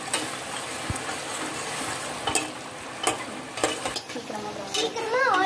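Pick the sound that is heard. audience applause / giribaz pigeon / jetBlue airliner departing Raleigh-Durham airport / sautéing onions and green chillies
sautéing onions and green chillies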